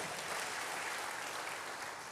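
A congregation claps during a church service, a faint, steady wash of applause in the distance with no voices over it.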